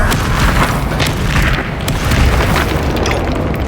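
The Confringo fire spell blasting during combat in the video game Hogwarts Legacy, loud, heavy booms and rumbling bursts filling the whole stretch without pause, with no voices.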